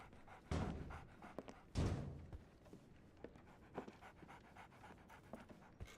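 A dog in a video game pants steadily and fairly faintly, with two louder thumps near the start, and no voices are heard.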